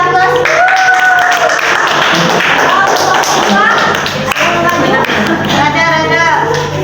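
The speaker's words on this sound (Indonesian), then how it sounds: "Kasih aplaus." A classroom audience applauds during a student presentation, with steady scattered clapping throughout and people talking and calling out over the claps.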